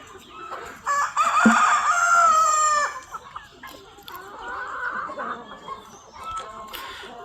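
A native country rooster crows loudly close by, a long drawn-out call, followed by chickens clucking and a second, quieter crowing call.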